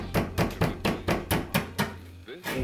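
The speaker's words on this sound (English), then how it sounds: "You take your standard drywall saw," A standard drywall saw cuts a hole in a drywall wall, making quick, evenly spaced rasping strokes, about four per second, close and fairly loud, then stopping.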